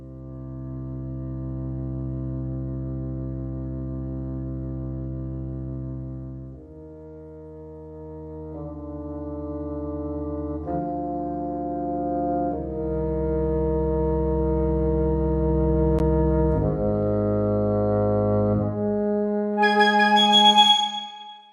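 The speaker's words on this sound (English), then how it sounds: "I've got a little bit of Piccolo, Woodwind, Bassoon, and contrabass, so I'll play through those" Sustained orchestral sample notes from Vienna Symphonic Library play alone in sequence: deep contrabass and bassoon tones first, then mid-register woodwind phrases, ending with bright high piccolo notes.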